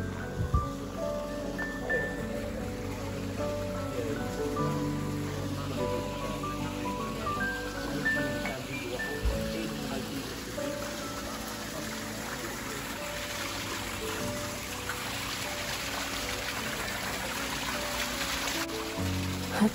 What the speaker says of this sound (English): iron-laced water falling down a waterfall